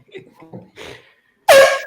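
A loud, blaring air horn blast bursts in after a few soft murmurs and lasts to the end, sharp and brassy.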